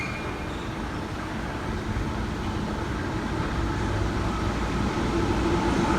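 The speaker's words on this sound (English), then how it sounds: "We have a freight service passing on platform 2." A freight train hauled by several locomotives rolls through Parramatta station on platform 2, a steady broadband rumble and wheel noise that grows slightly louder as it passes.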